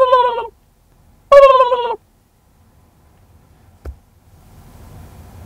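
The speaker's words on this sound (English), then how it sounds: "Turkeys? Turkeys, yeah." Wild turkeys gobble outdoors in two loud, rattling bursts close by, followed by a brief knock and low rumbling background noise.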